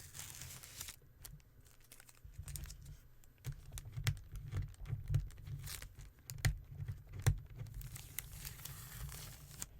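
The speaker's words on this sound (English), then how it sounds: "Pulling the tape off is always so satisfying." Tape peeled slowly off paper on a desk, giving a close, quiet crinkling and ripping run of small crackles and sharp ticks that builds in the middle before easing off, with no talking.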